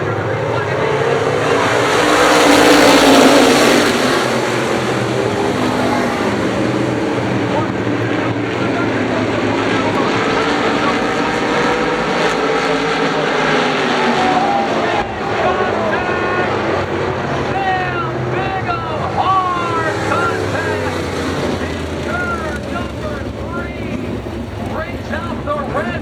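Open-wheel sprint race cars at Toledo Speedway in the All American Coach Open Wheel Special, engines roaring steadily and loud for the whole stretch, with a race announcer talking over the field.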